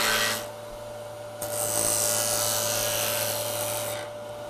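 Wood lathe spinning a 2x4 blank while a detail gouge cuts it, a steady whine with a hissing, scraping cut that swells, eases off, then returns alone.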